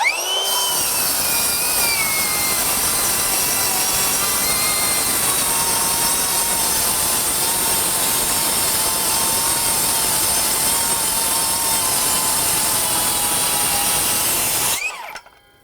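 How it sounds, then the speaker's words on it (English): A Metabo HPT MultiVolt 7-1/4-inch rear-handle circular saw rips through a stack of OSB, a loud, sustained whining cut with a brief spin-up at the start and a sharp drop as the blade finishes near the end. "there's a stack of 4 1/2 inch pieces of OSB. We're just going to rip through it,"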